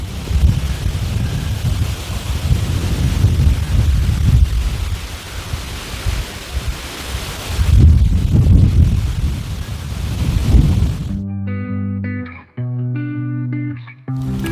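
Wind on a golf course gusts hard against the microphone as a loud, rushing roar that swells and fades, then drops out as brief music begins.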